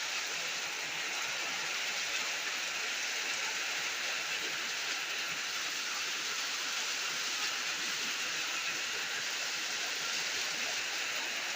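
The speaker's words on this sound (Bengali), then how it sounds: "ঝমঝম ঝমঝম করে বৃষ্টি পড়ছে।" Heavy morning rain pours down in a dense, even hiss that stays steady throughout, soft and wide with no talking over it.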